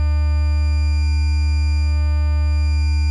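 A synthesized motor buzz built in FMOD with added distortion, a constant, loud, steady drone of stacked harmonic tones that holds unchanged with no other sounds.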